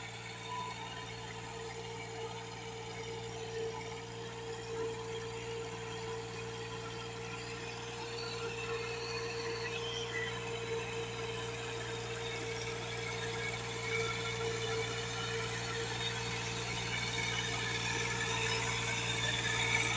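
A Massey Ferguson 260 tractor pulls a leveling board through a flooded field; its engine runs steadily with a constant low hum.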